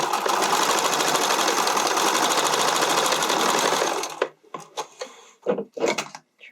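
A sewing machine runs steadily for about four seconds, stitching the neck and keyhole of a skating dress, then stops; a few sharp clicks and fabric-handling knocks follow in the near quiet.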